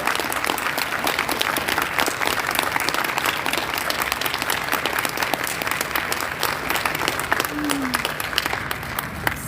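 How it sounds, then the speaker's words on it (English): Audience applause fills the room after a talk: a dense, steady wash of many hands clapping together, loud and continuous throughout with no pause. "A round of applause for the work that they're doing."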